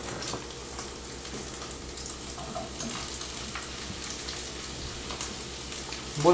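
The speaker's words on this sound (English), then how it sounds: "Alright, mushrooms go in the pan now." Mushrooms frying in a big pan give off a steady, even sizzle, like light rain, at moderate loudness throughout, with a brief louder clatter at the very end.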